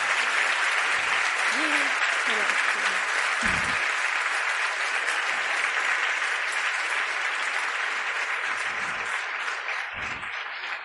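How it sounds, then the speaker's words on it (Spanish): A live audience claps steadily and loudly for the author Irene Vallejo, a dense unbroken wave of applause that fades slightly at the end. "Así que un aplauso para esta maravilla de ser"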